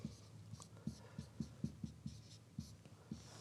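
Pen tapping and scratching while algebraic fractions are written out by hand, giving a faint, close run of about a dozen quick ticks at an uneven rhythm.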